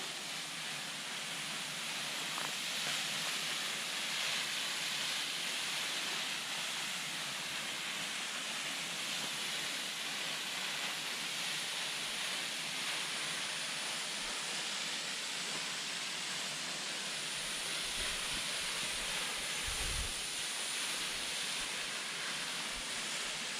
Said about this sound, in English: There she is, Upper Calf Creek Falls.